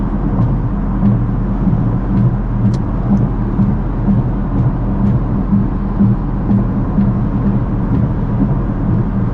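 Audi RS6 driving over a rough road, producing a loud, steady low road and engine rumble from inside the cabin with faint, sparse knocks from bumps.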